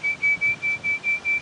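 A high, clear whistle repeats in steady short pulses, seven or so even blasts in quick rhythm against a quiet background.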